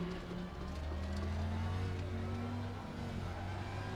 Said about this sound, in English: So there we go, the Ferrari goes past yet again.